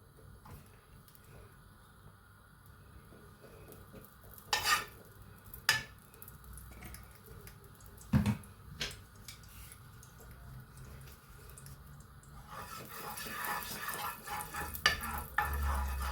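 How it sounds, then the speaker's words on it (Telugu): Nuts lightly frying in a teaspoon of ghee for protein laddu, a faint steady sizzle with a few sharp stirring clicks and scrapes against the pan, growing busier toward the end. "ఇవన్నీ లైట్గా కొంచెం వేపుకుందామండి"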